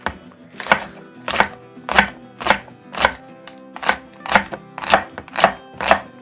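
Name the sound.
chopping green onion with knife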